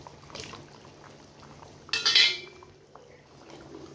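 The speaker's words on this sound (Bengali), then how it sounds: "এবার আমগুলো দিয়ে দেব" Mango pieces drop into a pot of simmering potato and fish curry with one brief clattering splash midway, set against a quiet, steady kitchen background.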